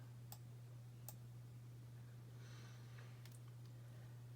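A few sharp, quiet clicks of a computer mouse in design software, spaced out over a low steady electrical hum, faint and close, with no voices.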